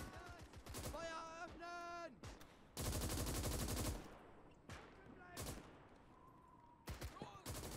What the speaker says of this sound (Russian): это потому что снайпер стреляет